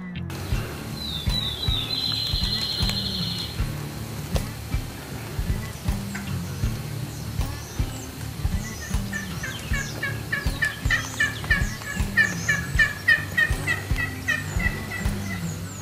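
Turkey calling with a repeated run of yelps in an even cadence, the notes growing louder and more clustered toward the end, with a faint rasping squeal early on, likely from a call rather than a live hen.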